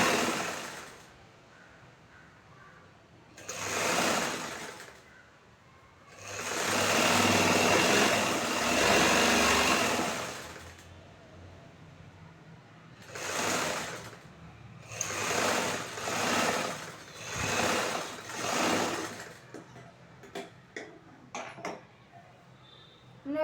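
A sewing machine stitches a chudithar bottom seam in several bursts, whirring rapidly for a few seconds at a time with quiet pauses between runs, then light clicks near the end.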